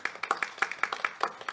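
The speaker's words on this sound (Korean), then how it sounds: "박수 부탁드립니다" A small conference audience claps in a sparse, rhythmic pattern of distinct hand claps, fairly quiet and close, with no voices over it.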